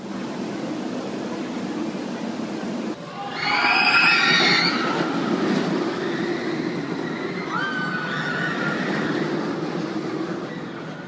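A B&M inverted roller coaster train at Phantasialand roars past with rumbling track noise, rising loud then easing, with faint high screeches and distant riders' screams over steady background.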